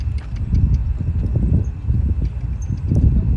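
A reactive horse being ridden with training wheels and rubber straps, hooves clip-clopping in a steady, close, continuous rhythm over a low rumbling ground.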